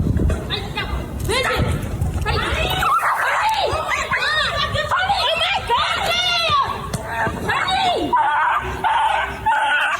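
A small off-leash dog yips, barks and whimpers frantically up close, mixed with shrill cries and overlapping people's voices in a tense, chaotic outdoor scene.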